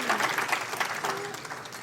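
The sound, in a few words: audience applause at a meeting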